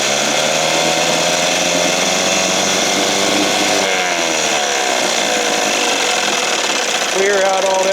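A 1968 Evinrude Fisherman 6 hp outboard motor, not yet warmed up after choking, runs steadily and loudly at close range with a buzzing drone that shifts pitch near the end as the throttle changes.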